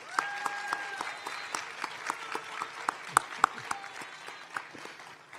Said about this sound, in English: let's give them also a round of applause